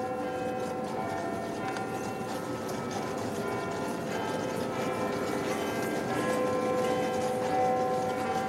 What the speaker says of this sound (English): It was a sound map of how the bells of Big Ben traveled through central London.